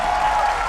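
A crowd at an esports arena during a Mobile Legends match applauds in a brief, dense wash of clapping and cheering.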